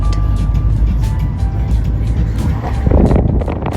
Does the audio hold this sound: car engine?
yes